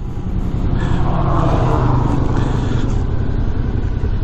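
Steady, loud engine rumble and wind roar from a 2018 Suzuki V-Strom 650 motorcycle ridden through the city, a continuous low drone heard from on board with no one talking.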